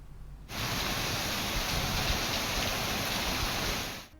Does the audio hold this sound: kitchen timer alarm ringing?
no